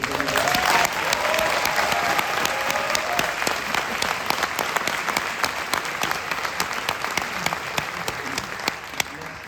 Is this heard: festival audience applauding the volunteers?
yes